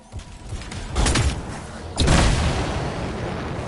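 Canisters explode in the Anthem video game as two heavy blasts about a second apart, the second louder, each trailing into a rumbling, crackling decay.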